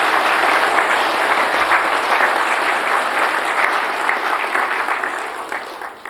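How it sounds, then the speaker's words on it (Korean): A church congregation breaks into loud, sustained applause during a worship service, a thick wash of many hands clapping together that gradually tapers off toward the end. "영광의 박수를 크게 하나님 앞에 돌리시겠습니다."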